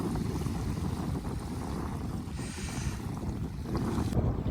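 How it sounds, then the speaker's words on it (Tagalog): Strong wind buffets the microphone outdoors in a cold California setting, a continuous loud rumbling roar with gusty surges and no talking. "Lakas ng hangin."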